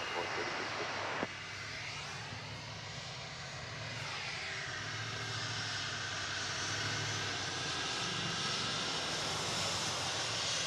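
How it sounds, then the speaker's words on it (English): An American Airlines Airbus A321 jet at DFW Airport produces a broad, steady engine roar with a rising whine partway through, heard at a distance over continuous airport ambience. "American Flight 1322 is trucking. Destination Denver on that Airbus A321."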